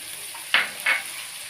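Chicken and green beans frying in a pan with crushed garam masala and fresh coriander, a faint steady sizzle broken by two brief louder stirs about a third of a second apart.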